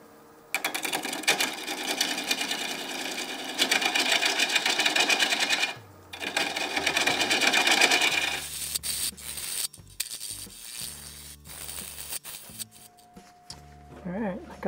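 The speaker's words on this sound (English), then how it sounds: "I got the bottom sanded up to 320." Steady abrasive scrubbing of sandpaper against the bottom of an Osage orange wood piece, continuous and close for about six seconds, pausing briefly, then resuming before fading into quieter handling noises.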